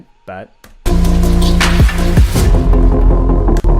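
A heavy impact hits at a music track's drop, a deep booming thud that lands with a sudden swell of dense electronic sound, followed by loud sustained bass and synths; a brief spoken word comes just before.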